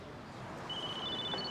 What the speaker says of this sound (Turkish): Sefer telefonu çalıyor.